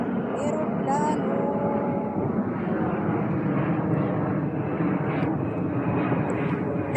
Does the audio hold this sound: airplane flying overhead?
yes